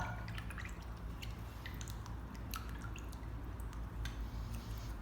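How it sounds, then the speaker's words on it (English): An acrylic paintbrush being rinsed in a water container: steady close sloshing and dripping with small splashy ticks over a continuous watery wash, no talking. "I'm gonna wash my brush out"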